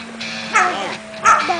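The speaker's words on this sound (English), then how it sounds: "You see that little doggy?" Small dog giving two short, high yipping barks with a whiny edge, close by, separated by a brief pause over a faint steady hum.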